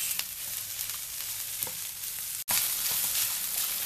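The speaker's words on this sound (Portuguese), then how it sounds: "vamos misturar bem, vamos dar uma refogada, deixar ela absorver os líquidos do, da cebola" Onion and sun-dried beef filling sautéing in a pan, a steady close sizzle and crackle with scattered stirring scrapes and one brief dropout, no talking.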